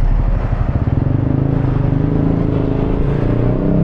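A Yamaha NMAX 155 V2 scooter runs steadily on a road ride, a loud continuous engine drone with rhythmic pulsing and wind rumble, no voices.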